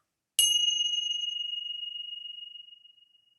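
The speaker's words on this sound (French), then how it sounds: "écouter la cloche qui retentit" A single struck meditation bell gives one clear ringing tone that hangs and slowly fades over about three seconds in otherwise total silence.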